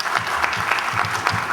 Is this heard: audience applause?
yes